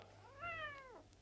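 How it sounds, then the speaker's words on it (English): A stray cat gives a single drawn-out meow on a quiet street at night, clear and fairly close over low background hum. "A lot of cats?"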